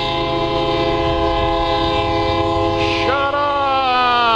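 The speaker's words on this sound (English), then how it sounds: "looks like y'all get to sit here and watch me sit through a train." A train passes close by, its horn sounding steady and loud with sustained tones that shift in pitch near the end, over a continuous rumble of railcars.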